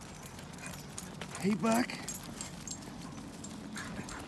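A Thoroughbred horse's hooves clip-clop softly in the background as it moves. A man's short spoken greeting briefly rises above the steady, faint hoof beats.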